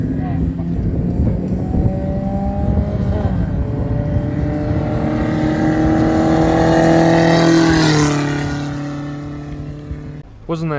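A race car at Chuckwalla crosses the checkered flag, its engine roaring loud and close as the pitch climbs steadily through the gears, then easing off and fading near the end.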